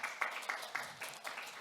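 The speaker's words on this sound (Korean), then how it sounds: "좋은 발표해 주신 우리 뉴진스 팀에 다시 한번 큰 박수 부탁드립니다" A small audience at a Korean data competition results presentation applauds a student team after their library proposal, the clapping faint and thin with a few distinct bursts over about two seconds.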